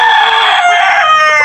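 A breeding rooster crows once, a loud, close cock-a-doodle-doo with strained harmonic tones, heard alone in a farmyard.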